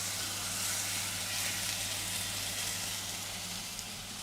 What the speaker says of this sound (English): Now let's sear this chuck